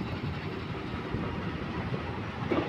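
Train at Gurgaon railway station, beneath the Daulatabad flyover, a low steady rumble with faint rail rattle heard from a distance, no talk.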